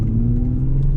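A Lexus IS300 with a swapped 2JZ engine and five-speed manual holds a loud, steady high-RPM drone heard from inside the cabin, a brief continuous burst with no talking.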